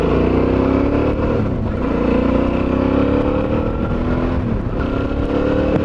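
Suzuki V-Strom motorbikes idling and revving in the Flinders Ranges outback, a loud close engine drone rising and dipping with throttle blips over about six seconds.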